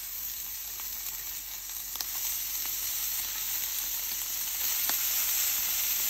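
Bacon sizzles on a Blackstone griddle, a steady close hiss of frying fat with occasional small pops and crackles spread across the whole stretch.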